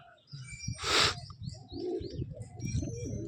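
Pigeons at a low-priced pigeon sale give low, rolling coos close by, with a brighter rustling burst near the start that may be wing flapping, then steady soft cooing and faint chirps.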